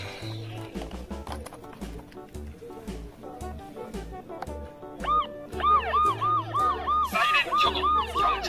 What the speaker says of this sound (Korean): 사이렌 켜고 경찰 버스도 출동!